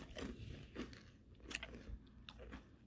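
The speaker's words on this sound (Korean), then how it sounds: "블루베리는 블루베리 씹는 맛이야." Someone chews a handmade blueberry nougat cracker up close, with crisp crunchy bites and moist chewing in an uneven rhythm, quiet and intimate with no talking.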